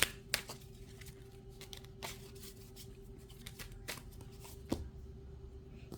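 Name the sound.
tarot cards being shuffled and drawn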